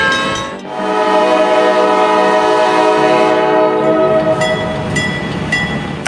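Freight train slowly hauling a heavy load on a CEBX 800 car westward through Strathroy, a loud steady rumble of rolling wagons with sustained tonal horn-like notes and a few sharp squeals near the end.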